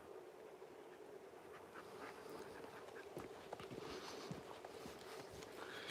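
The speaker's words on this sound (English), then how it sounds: "You can hear the geese." Scattered honks and calls from geese at a distance over a steady outdoor background, with a few footsteps nearby.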